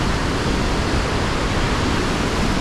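Ohiopyle waterfall in a Pennsylvania state park rushing steadily, a dense, even roar of falling water with no pauses and no voices.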